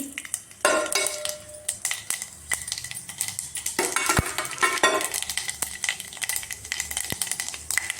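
Mustard seeds, chana dal, urad dal, cumin and fenugreek crackle in hot oil for a tempering, with sharp pops and a steady fry under occasional metal clinks of a pot and spoon.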